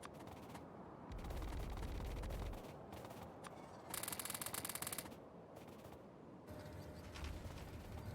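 Turret gunfire from the Factorio video game, sustained mechanical bursts with a dense rapid rattle midway, loud and close over a constant low game backdrop, no talking.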